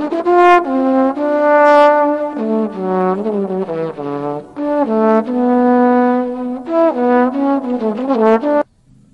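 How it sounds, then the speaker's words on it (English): A sackbut, the trombone-like medieval brass instrument, plays a slow melodic line of sustained, rich brassy notes, loud and close, with short breaks between phrases before stopping. "Here is the sound of a sackbul."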